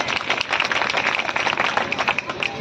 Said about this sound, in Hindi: उनके सम्मान में जोरदार तालियां हो जाए।